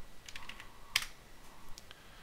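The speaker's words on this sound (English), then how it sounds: "I'm going to type Firefox here." Quick keystrokes on a computer keyboard, a handful of light clicks in an uneven burst with one louder tap near the start, close and fairly quiet.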